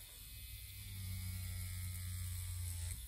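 A rotary tattoo machine buzzes steadily with a low hum and faint mechanical whir, running continuously at close range without pause.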